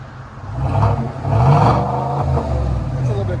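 A 2023 Chevy Silverado LTZ with a 6.2-liter V8 and Borla S-Type cat-back dual exhaust revs in neutral, a deep close rumble that swells twice and holds near the rev limiter, with voices talking alongside.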